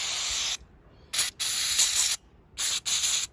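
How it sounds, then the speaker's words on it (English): Carburetor cleaner sprays in sharp, loud hissing bursts through the needle of a Victa two-stroke lawnmower carburetor, four spurts of varying length separated by short silent gaps. "I will spray a little bit through the needle as well"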